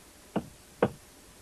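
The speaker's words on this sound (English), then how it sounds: "What was that knocking?" Two firm knocks on a wooden door, spaced about half a second apart, fairly close and alone against a quiet background.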